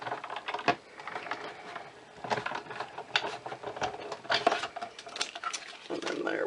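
Scissors cutting a paper circle centered for a bath bomb box craft project, a series of close, crisp snips and rustling paper crunches in uneven bursts with no talking.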